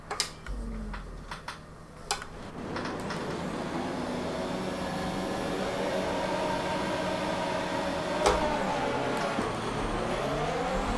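Race start in the F1 2019 video game at Paul Ricard for the French Grand Prix, with the car's engine bogging down: a steady droning engine note with slowly rising whine, a few sharp clicks early and a brief knock midway.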